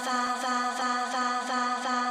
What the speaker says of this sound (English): all it is this clock and this drone from the acapella itself.